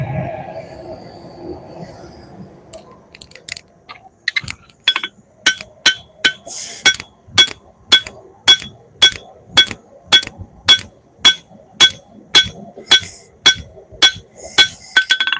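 Steady rhythmic hammer blows forging rough bevels into a steel sword blade, sharp ringing strikes repeating about twice a second, close and loud after a brief quieter start.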